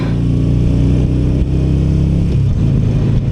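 A 2017 Yamaha V-Star Bolt R-Spec motorcycle engine revs during a ride, a loud, close, throaty drone that holds steady throughout with slight swells in pitch.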